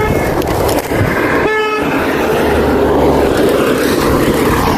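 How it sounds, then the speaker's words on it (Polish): A car horn honks once in a short blast amid steady road and engine noise from a moving vehicle. "Czemu na mnie trąbią?"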